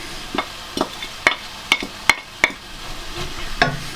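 Leeks, celery and carrots sweating in a pan while being stirred, with a soft background sizzle under a series of irregular spoon scrapes and knocks against the pan, the frying growing slightly louder toward the end.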